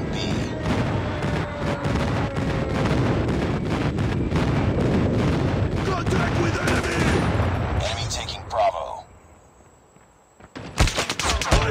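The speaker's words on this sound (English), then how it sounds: "Enemy airstrike incoming." Heavy gunfire and explosions from an enemy airstrike in Call of Duty: Mobile ranked multiplayer, a continuous loud barrage with booms that drops away near the end before a few sharp bursts return.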